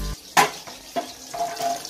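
Battered squid fries in a home kitchen, giving a sizzling hiss broken by sharp clatters and splashy bursts from pans and utensils close by, with no speech.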